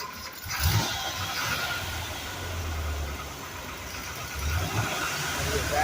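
1973 Corvette engine idling: a low, steady rumble heard from nearby with slight swells, plus some faint background noise and a brief louder bump near the start.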